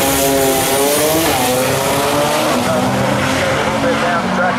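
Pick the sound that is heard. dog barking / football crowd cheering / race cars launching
race cars launching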